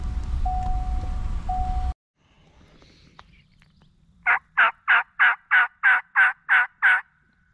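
A wild turkey gobbler in Georgia gobbles in a rapid burst of about nine loud, evenly spaced calls on a calm, clear morning, preceded by a few seconds of rumbling noise and near-silence.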